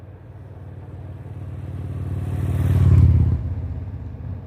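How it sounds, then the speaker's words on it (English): A motorbike passing by outdoors, its engine rumble rising as it approaches, peaking close by and then fading away, heard over steady wind noise. "Here comes a bike."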